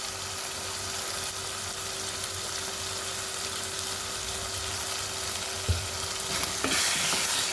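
Bitterleaf fried with blended country onions in a Cameroonian dish, a steady loud sizzle running throughout with occasional stirring scrapes near the end, no voices.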